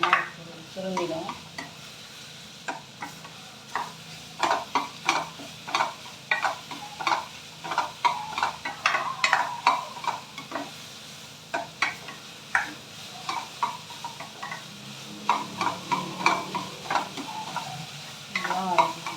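Mushrooms sauté in a pan for soup while being stirred, with quick irregular scraping and clinking strokes close by over a continuous soft sizzle, steady throughout.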